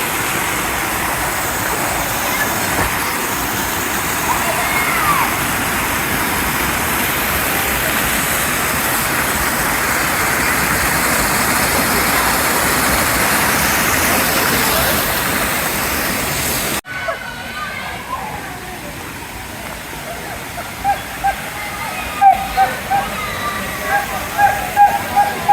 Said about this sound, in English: That's a cute little waterfall